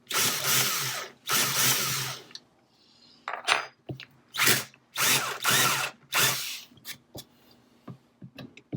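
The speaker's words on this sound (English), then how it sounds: "drill some pilot holes." A power drill drills pilot holes in a wooden tray in several short bursts close by, with brief gaps and small clicks and clatters between them; no voices.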